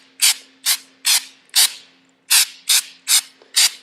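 Flex Seal sprays from an aerosol can onto a backpack in eight short, hissing bursts with brief pauses between them, close and clear with no talking.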